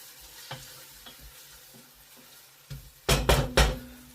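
Chopped onion frying in a pan at lowered heat, a soft low sizzle with a few scattered stirs, then three loud clattering scrapes of the utensil near the end, no talking.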